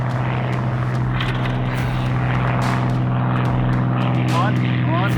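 Bush plane propeller engine running with a steady loud drone and rhythmic prop beat throughout, close and continuous, with voices talking over it.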